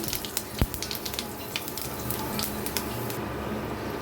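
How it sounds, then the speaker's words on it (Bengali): Five-spice seeds and two dried chillies fry in hot oil with a steady sizzle broken by sharp pops and crackles, heard close and alone. "এক চামচের মতো পাঁচ ফুড়ন দুটো শুকনো লঙ্কা ফোড়নটাকে আমি একটু ভেজে নেব"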